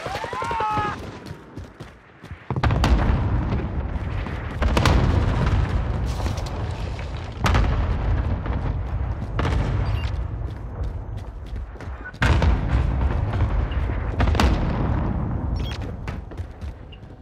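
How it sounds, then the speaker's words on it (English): Precision airstrike explosions in a video game, a series of heavy booming blasts in quick succession that rumble loudly and close, one after another, over roughly fifteen seconds. "Enemy precision airstrike."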